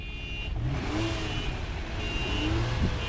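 Infiniti FX35 with a 3.5-liter V6 and twin exhaust idling steadily nearby, a low continuous engine hum with slight rises in pitch, no talking.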